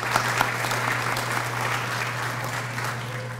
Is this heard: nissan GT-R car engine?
no